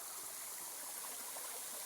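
Faint, continuous hiss of the Lazny waterfall heard from its top, a steady wash of falling water with no voices.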